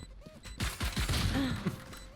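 Gunfire in the Valorant video game: a quick cluster of sharp shots crackles in a loud burst, followed by a brief tonal sound and fading echoes.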